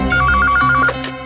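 A phone rings in a TV crime-drama scene, a steady electronic bell trilling in quick repeated bursts for most of a second before cutting off, loud and close with no talk over it.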